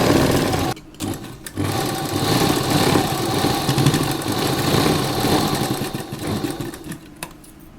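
A sewing machine runs steadily while stitching along the edge of an A-line jacket dress, with a continuous mechanical whir and brief pauses near the start and end, fairly close and loud.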